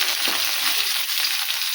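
Garlic and curry leaves hit hot oil with cumin and mustard seeds, giving a loud, close, continuous sizzle and crackle with faint stirring scrapes and no voices.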